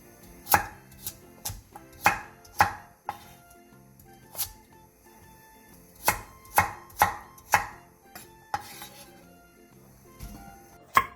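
Half a carrot cut into large chunks on a cutting board, with a dozen or so sharp knife chops in uneven clusters and short pauses between them, close and clear with no talking.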